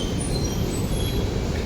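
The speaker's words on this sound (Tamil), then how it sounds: "ட்ரெயின் வந்துச்சு." A metro train rolls into an underground station in Singapore, a loud steady low rumble and rushing roar with faint high squeals of wheels and brakes, no talk.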